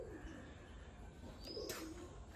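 Pigeons cooing faintly near a balcony, soft low calls over a quiet background hiss, with a brief chirp toward the end.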